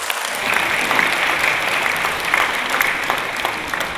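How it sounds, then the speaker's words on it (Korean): A church congregation at a Sunday worship service breaks into steady, loud applause from many hands, a continuous dense clapping with faint crowd murmur underneath. "큰 박수와 응원 부탁드리겠습니다."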